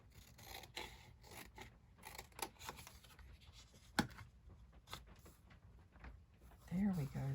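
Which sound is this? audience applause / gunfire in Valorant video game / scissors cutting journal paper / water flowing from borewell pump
scissors cutting journal paper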